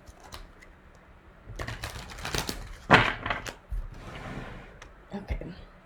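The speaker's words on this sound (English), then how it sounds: "Let me get one good shuffle in here." Someone shuffles a tarot card deck in a few quick riffling bursts, crisp papery flutters close by, with short pauses and faint background sound between them.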